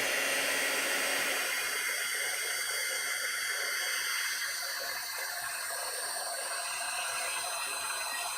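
A heat tool blows steadily on metallic paper to make it bubbly, a constant, close whirring roar of fan and hot air that barely changes throughout, with no talking.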